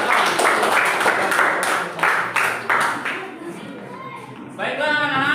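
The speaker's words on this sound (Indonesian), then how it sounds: "Tepuk tangan untuk kelompok 5." A classroom of students claps for the fifth group after its presentation, several seconds of lively, uneven hand-clapping fading out before a teacher starts speaking.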